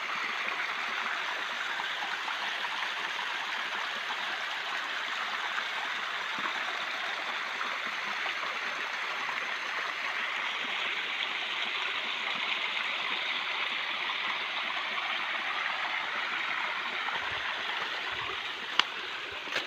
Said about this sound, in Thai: อันนี้เป็นน้ำตกนะเพื่อนเด้อ